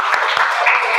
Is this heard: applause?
yes